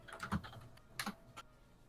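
Keys tapped on a computer keyboard in a few scattered bursts, a quick cluster near the start and isolated strokes later, fairly close but soft against quiet room tone with no talking.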